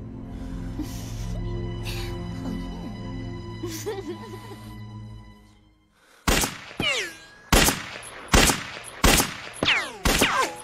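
Gunshots at a shooting practice session, a series of sharp, loud reports coming in an irregular rhythm after a stretch of sustained tonal noise.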